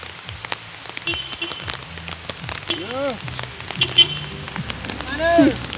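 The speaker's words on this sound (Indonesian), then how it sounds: "Hujan." Rain falls beside a roadside river in Kalimantan as a constant, dense hiss of drops, while people talk over it at close range.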